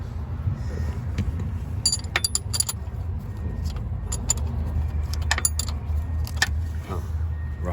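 Metal wrench sockets clink and jangle in sharp, scattered bursts during work on a 2015 Kia Optima shifter cable. A steady low rumble runs underneath, and no one speaks.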